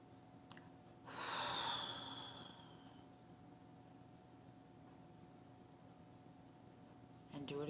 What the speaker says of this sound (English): do the breathing, deep breathe in